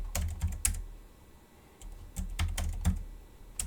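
Quick bursts of keystrokes on a computer keyboard, close and clear, with two clusters of clicks separated by a short pause.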